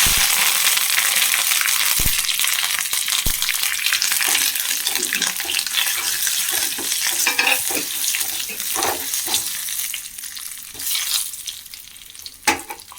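Dried red chillies, cut up, and curry leaves dropped into hot oil for tempering an onion sambar, giving a loud, continuous crackling sizzle with scattered sharp pops that thins out slightly toward the end.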